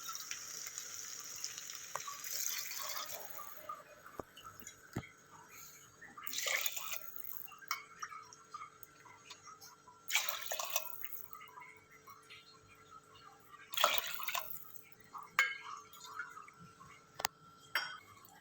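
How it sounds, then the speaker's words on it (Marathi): Bowlfuls of water are poured one after another into a cooking pot for dal khichdi. Each pour is a short, splashing gush, separated by quiet pauses and faint clinks. "तर आपल्याला 6 वाटी पाणी घालायचं आहे."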